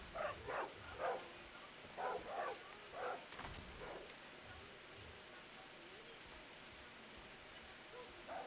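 A dog barks outdoors in short bursts, several yaps in quick succession followed by a few more spaced barks, then falls quiet as steady rain-like hiss fills the rest; moderately far and fairly faint.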